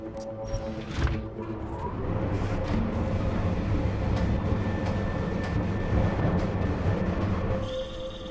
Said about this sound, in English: We can't let that chopper take off, Jensen.